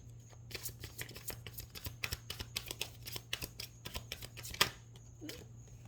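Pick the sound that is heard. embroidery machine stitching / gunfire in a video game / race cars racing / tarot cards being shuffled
tarot cards being shuffled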